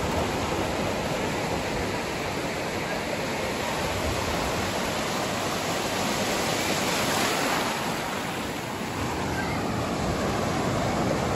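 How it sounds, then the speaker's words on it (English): Ocean surf breaks close by in a dense, continuous wash of rushing water. A broad roar swells and eases slightly with no pauses, and no talk is heard. "So suddenly, we had surf."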